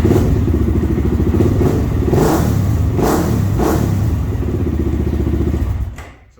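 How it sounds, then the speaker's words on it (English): A Kawasaki Z400 motorcycle with a freshly fitted starter runs loudly and close by, its engine chugging with a few rising revs before it shuts off abruptly near the end. "New starter's on. This thing starts right up."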